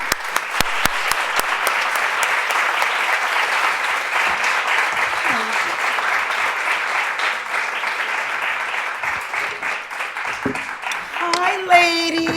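Warm applause from a lecture audience greets an Athena Distinguished Fellow at a Power Talk, dense steady clapping filling the room for about twelve seconds before a voice begins at the end.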